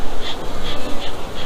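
A dense, loud buzz of many honey bees fills the air up close, with individual wingbeats swelling and fading.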